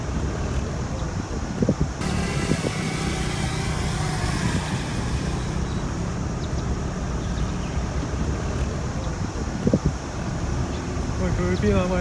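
Strong wind buffets the microphone of a DJI Mini 2 drone set up as a floatplane on the water at Tai Po River, a steady roaring rumble throughout, with faint voices underneath.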